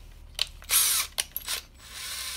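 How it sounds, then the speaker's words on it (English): A power drill bores holes in wood in several short bursts, each a sharp whirring rise that stops abruptly, with brief pauses and small mechanical clicks between, close up and with no voices. "we're gonna need to drill the holes in this wood."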